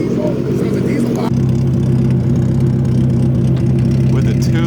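A 1983 Rabbit with a swapped 2-liter engine idling nearby, a loud, steady low rumble that rises slightly after a brief break, with people talking over it.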